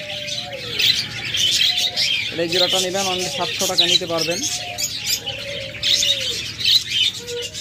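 Pet budgerigars, cockatiels and lovebirds chirp and twitter continuously nearby, bright overlapping calls heard beneath someone talking.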